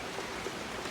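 Light rain falling steadily outdoors during Hurricane Idalia, a soft continuous patter of drops on surfaces at low, even loudness with no voices.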